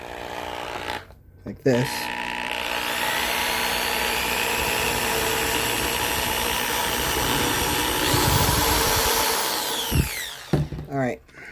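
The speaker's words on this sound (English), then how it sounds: "I'm going to drill a small hole" A power drill bores a small hole in a part for a rebuilt 220-volt AC outlet, giving one steady, close whine of about eight seconds; brief talk and handling noises come just before and after.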